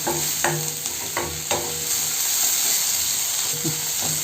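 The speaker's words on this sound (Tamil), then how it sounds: "ஒரு 10 செகண்ட் வதக்கினா போதும்." Ginger and garlic sauté in a hot pan for pepper chicken gravy, a steady close sizzle with a few scraping stirs of a spoon.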